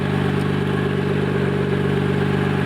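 A 1991 Nissan Skyline GT-R engine idles steadily at the exhaust, a loud continuous low rumble with a throbbing, even pulse throughout.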